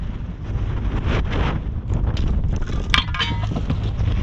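Cold, gusty wind blowing outdoors steadily, roaring against the microphone as constant low rumbling buffeting with no pauses and no talk.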